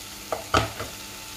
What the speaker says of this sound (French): je vais faire revenir mon oignon pendant à peu près 2 minutes